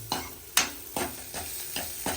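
Water poured into a hot pan while making Maggi noodles, with sharp sizzling bursts and stirring scrapes in an irregular rhythm of about six hits, close and moderately loud.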